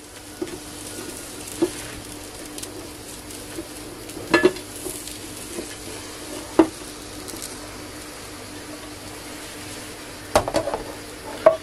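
An omelette frying in a pan: a steady, soft sizzle runs throughout, broken by occasional clinks and scrapes of a utensil against the pan, close and unhurried, with no talking.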